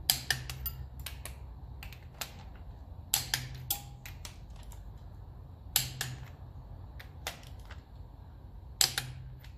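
Sharp mechanical clicks and clacks from a torque spanner set to 70 newton metres, tightening bolts on a 1954 Ferguson TEF 20 diesel tractor's cooling and fuel system, coming as scattered close transients about every few seconds over low workshop hum.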